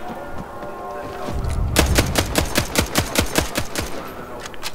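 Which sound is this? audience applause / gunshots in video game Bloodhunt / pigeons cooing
gunshots in video game Bloodhunt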